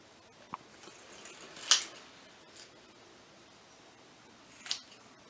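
Scissors trimming paper for an altered domino accordion book, a few sparse, quiet snips and clicks separated by long pauses against a faint background.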